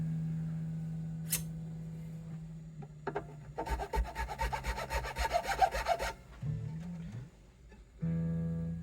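Fine filing on the bone-like tusk nut slots of a Gretsch Streamliner guitar, a close, dense rasping burst of rapid strokes lasting a few seconds, framed by quieter handling noises and a low hum.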